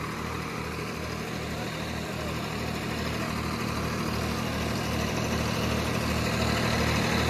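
A Swaraj 744 FE tractor engine runs steadily with a low, continuous idling rumble at a constant, fairly loud level, and no voices are heard.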